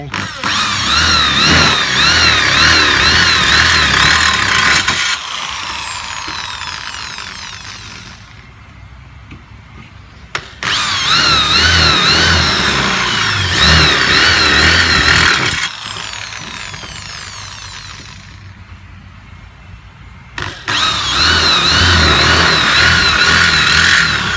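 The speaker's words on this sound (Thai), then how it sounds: "อันนี้เราเจาะรูเพื่อจะ เอาดอกเราเตอร์ เสียบเข้าไปนะครับ" A loud, high-pitched power tool whirs in long bursts of several seconds while drilling a hole for a router bit, cutting out between runs and restarting.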